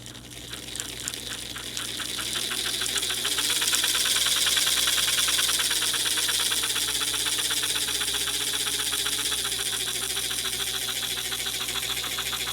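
An American Flyer prewar toy train locomotive runs under power, its motor building to a steady close whirring hum with a rapid rhythmic rattle that continues evenly to the end.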